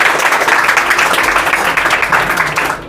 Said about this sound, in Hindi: इनके लिए एक ताली हो जाए बढ़िया